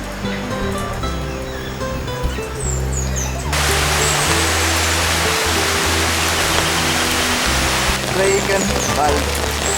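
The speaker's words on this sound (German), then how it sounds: "Ja, fängt jetzt Regen an." Rain pours steadily in the Costa Rica rainforest, a dense, even wash that grows louder partway through, with people talking underneath throughout.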